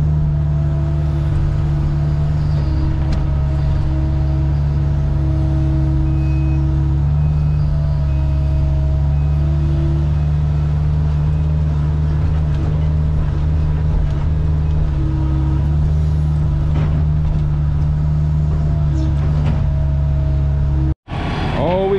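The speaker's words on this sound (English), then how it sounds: "we got another one in the skid steer now" A skid steer loader works steadily on a modular home foundation site, its loud diesel engine droning close by with a constant tonal hum, then briefly cutting out near the end.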